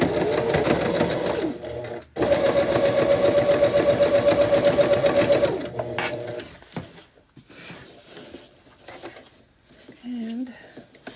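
A sewing machine top stitches a fabric bag in two close, loud runs of rapid mechanical whirring separated by a short pause, followed by quieter handling sounds and some speech.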